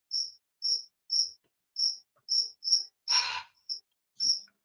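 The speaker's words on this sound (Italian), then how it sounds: "e cerco il grillo. Si sente." A cricket chirps in short, evenly spaced pulses, nine chirps over a few seconds. It is clear and fairly close, and one brief broadband burst of another noise breaks in partway through.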